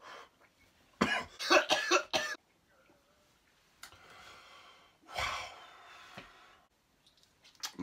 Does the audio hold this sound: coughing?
yes